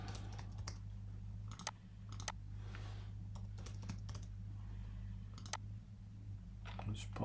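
Quick bursts of keystrokes on a computer keyboard enter a password, scattered clusters of light clicks with pauses between them over a steady low hum, fairly quiet and close.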